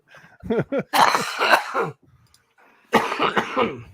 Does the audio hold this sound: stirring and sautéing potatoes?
no